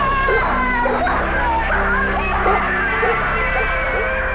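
Police dogs bark, yip and whimper at a civil rights march, a loud cluster of barks in repeated bursts over a steady crowd murmur and talking.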